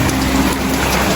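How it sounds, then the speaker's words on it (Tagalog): Rain falls steadily and close by, a loud dense hiss of drops on surfaces with no pauses. "is maulan-ulan siya"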